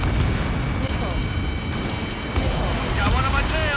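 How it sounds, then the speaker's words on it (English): A fighter jet's missile launches with a loud whooshing roar in the Ace Combat 7 flight game, over constant engine noise, while radio voices talk over it. "Missile launched."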